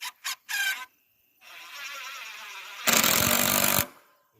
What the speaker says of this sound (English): And I'll drive a screw in.